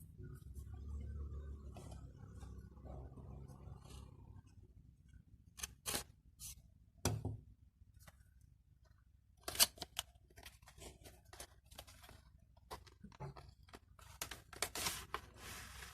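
A Mi car charger's package is opened up close, with quiet rustling, then sharp tearing and snipping bursts and scattered small clicks and taps as the box and contents are handled. No one talks.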